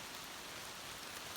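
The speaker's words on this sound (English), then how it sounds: "It is raining very hard right now" A torrential downpour near a creek on a wooded hillside, a dense, steady hiss of heavy rain that fills the whole stretch without pause.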